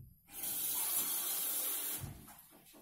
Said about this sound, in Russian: Сюда наливаете воду.